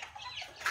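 Farm chickens give a brief, faint cluck or two in an outdoor yard, a soft close call that rises at the end.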